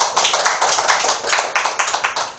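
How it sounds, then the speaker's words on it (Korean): A small audience at a Korean reading talk-show opening claps for a few seconds, a brisk, uneven patter of hands that stays fairly close and even, with no talk over it. "박수 한번 주세요"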